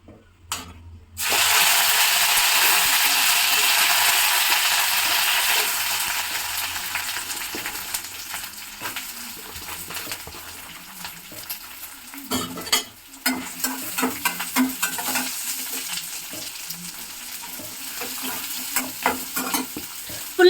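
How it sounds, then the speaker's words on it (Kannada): Onions half-frying in hot oil in a village kitchen, a loud dense sizzle that bursts in after a moment of quiet, then eases and breaks into repeated scraping stirs and clanks toward the end. "ಫುಲ್ಲು ಫ್ರೈ ಆಗಬಾರ್ದು, ಈರುಳ್ಳಿ ಚೆನ್ನಾಗಿರಲ್ಲ, ಅರ್ಧಂಬರ್ಧ ಫ್ರೈ ಆಗಬೇಕು."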